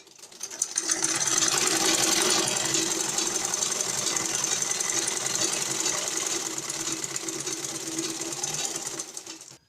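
A sewing machine stitches down the edges of a scarf base, running in one continuous rapid mechanical chatter at moderate level for most of the stretch, with no talking.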